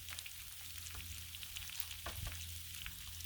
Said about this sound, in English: some of the bacon's starting to get done